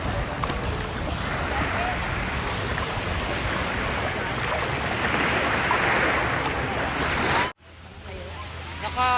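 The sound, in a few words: sea waves at Boracay beach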